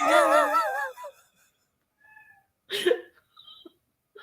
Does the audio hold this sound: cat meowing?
yes